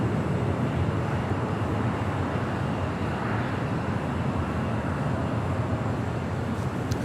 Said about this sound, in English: That's the Singapore Airlines 777-300ER heading back to Tokyo Narita.